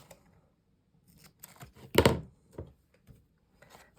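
Scissors cutting a V shape in paper for a scrapbook album base, a few close, crisp snips with one louder cut in the middle, in a quiet room without talking.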